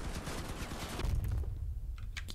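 Machine guns fire in Crossout, a vehicle-combat game, in fast dense bursts with a heavy low rumble, easing into scattered sharper shots near the end.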